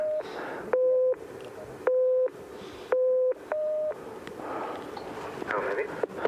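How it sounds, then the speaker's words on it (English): Low and high test tones for a listening test at a 6,500-metre camp on Everest alternate as steady beeps, with four clear tone pulses separated by gaps over a constant background hiss. "Okay, now you know for this test, David, you're going to try and count the low tones and ignore the high tones."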